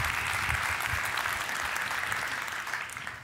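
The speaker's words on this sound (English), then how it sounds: "let's give Ambassador Peters one more round of applause" Audience applause at a 2018 World Affairs Great Decisions talk on global health, honoring an ambassador after a speech; steady, dense clapping from a sizable crowd that holds for several seconds and tapers slightly at the end.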